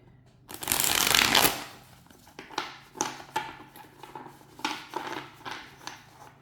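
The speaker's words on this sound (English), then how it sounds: "So let me do a quick shuffle, see how they work." A thick Tarot de Marseille deck is riffled in one loud, dense burst, followed by a run of softer card flutters and slaps as it is squared and shuffled again, close up.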